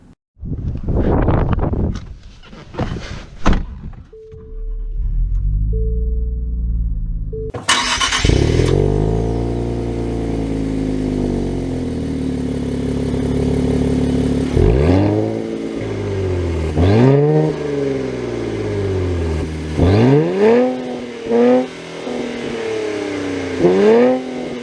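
A 2023 Nissan Z Performance with automatic transmission starts up with a brief crank and catch, settles into a steady idle, then revs and accelerates hard through several rising gear pulls, loud and close throughout.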